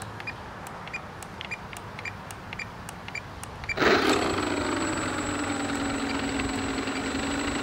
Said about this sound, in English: So the motors have now started.